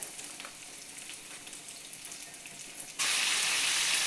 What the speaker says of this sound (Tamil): இப்போ நாம் கட் பண்ணி வச்சுருக்க தக்காளியை சேர்க்கலாங்க.